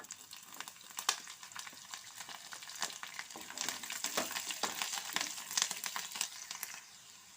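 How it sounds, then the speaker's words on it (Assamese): Green chili and garlic sizzle and crackle steadily in hot oil in a pan for a fish curry, with occasional stirring scrapes, fairly quiet and close, no voices. "মই আজি পিঁয়াজ নিদিয়াকৈ বনাইছোঁ, গতিকে মই এয়া জলকীয়া আৰু নহৰু একেলগে দিছোঁ।"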